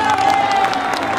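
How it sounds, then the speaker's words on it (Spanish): Crowd applause and cheering at a jaripeo rodeo in the Medialuna Monumental El Trapiche arena in Peñaflor, a dense, steady wash of clapping with a sustained tone running through it. "fuerte el aplauso para nuestro querido alcalde"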